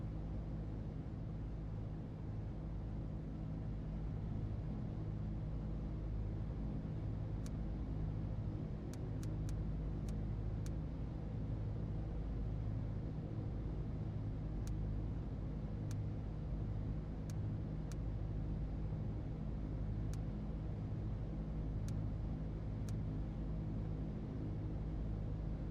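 Aircraft engine in the X-Plane 11 flight simulator holding a steady, loud low rumble throughout, with a dense droning hum and a few faint sharp clicks scattered over it.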